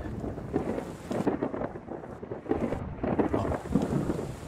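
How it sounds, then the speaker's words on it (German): Thunderstorm ambience from the video game Journey of Life, with steady rumbling thunder and rain-like noise rolling on continuously at moderate level, with no talk. "Ist auch interessant, dass das Gewitter immer noch da ist."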